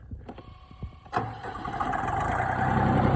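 A cheap 24 hp mini tractor with reverse cranks briefly, then its engine catches and settles into a steady, building idle nearby, with a few clicks beforehand and no talk.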